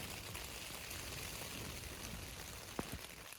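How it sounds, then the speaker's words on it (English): Steady rain drums on a tent in a mountain storm on a high backcountry route, a faint, even wash of patter with one brief louder tap near the end. "It's been raining for about 2 hours."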